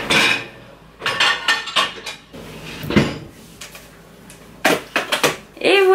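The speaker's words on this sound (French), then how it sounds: "Lave-vaisselle." Dishes and cutlery clatter and clink in quick irregular bursts as a dishwasher is loaded in a home kitchen, close and fairly loud, with some cupboard or drawer knocks between them.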